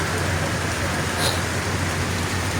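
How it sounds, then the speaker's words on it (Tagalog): Steady, dense hiss of heavy rain pouring down, constant and close, with a faint low rumble beneath it. "diba lakas ng ulan dito"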